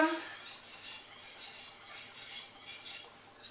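A spoon steadily stirs olive and ham cake batter in a bowl, giving a continuous soft, wet scraping and swishing with a gentle repeating rhythm, close up and without talk.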